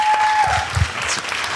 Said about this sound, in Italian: allora Gael, facciamo un applauso a questo punto.